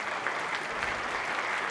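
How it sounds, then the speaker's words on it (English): Audience at a conference applauding, with steady, dense clapping throughout at an even level. "we need to give them a big round of applause"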